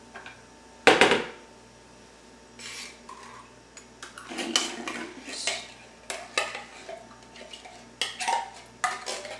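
A metal spoon scrapes and clinks against a cooking pan while plopping beef stroganoff ingredients in, with a sharp clatter followed by irregular light scrapes and taps, close and alone.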